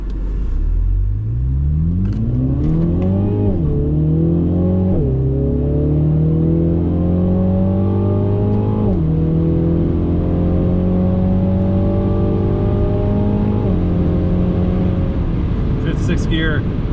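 A 2020 MINI JCW Clubman with a 306 hp engine accelerates hard in manual mode, its loud engine note climbing steadily through several upshifts, each marked by a brief dip before the pitch rises again, heard from inside the car.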